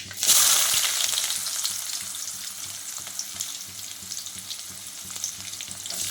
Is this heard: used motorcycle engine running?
no